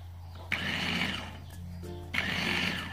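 ORI GOTO multifunction blender switched on in two bursts, each starting with a click into a whirring motor hum over a low steady drone, with a quieter pause and a brief mechanical tone between them.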